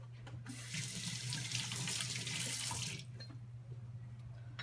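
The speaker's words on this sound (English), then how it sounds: "Wash your hands real quick." Hands are washed under a running kitchen sink tap: a steady stream of water splashes for about two seconds, then stops, with light drips and handling noises afterward.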